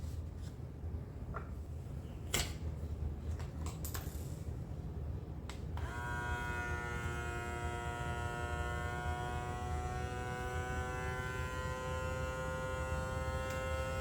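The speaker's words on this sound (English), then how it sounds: "I think this is a great electric mason jar vacuum sealer" An ikiu electric mason jar vacuum sealer runs with a steady whirring motor hum, preceded by a few handling clicks and taps, then droning on alone with a slowly rising pitch.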